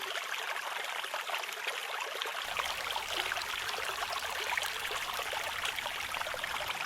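Water in a stream runs and trickles in a steady, continuous wash of splashing, moderately close, with no talking and no breaks.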